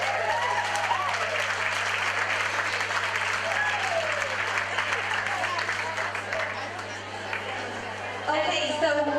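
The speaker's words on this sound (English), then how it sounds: "please give yourselves and all our other supporters a round of applause" An audience at a camogie club fashion show applauds its supporters in a long, full round of clapping mixed with cheers and chatter, a low steady hum underneath, dipping briefly before swelling again near the end.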